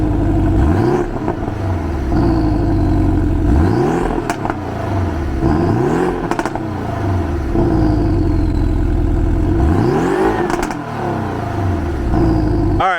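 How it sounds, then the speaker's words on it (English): A Porsche 718 Cayman S in sport mode revs repeatedly and loudly, its engine note climbing and dropping in several sharp sweeps with crackling overrun between them, close by and with no talk. "Make sure that you put it in sport mode and just rev it. It likes to rev high."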